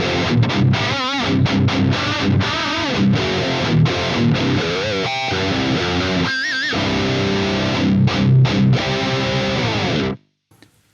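An electric guitar plays through a Marshall JCM800 2203 amp plugin behind a noise gate, heavily distorted riffs with chugging chords and a few bent lead notes, loud and up front, stopping abruptly near the end.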